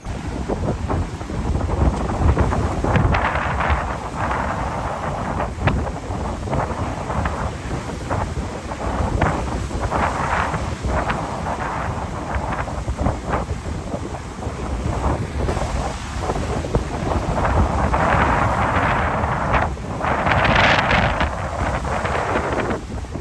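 Sea waves crash continuously in a strong storm wind, a loud, unbroken roar with surging bursts of spray and heavy wind buffeting the microphone throughout.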